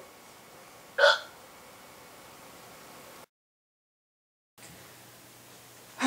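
A single sharp hiccup rings out close and loud over a steady hiss of static, then a stretch of dead silence, then the hiss returns and ends on the start of another hiccup.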